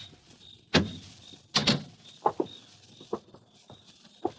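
An old door swinging open in a tense domestic scene, with sharp thuds and clacks of the latch and frame, then a few scattered knocks and footfalls nearby, no voices.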